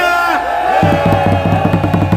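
A crowd shouting a cheer in unison at an outdoor rally, a loud, sustained roar with rhythmic chanting and pulses running throughout.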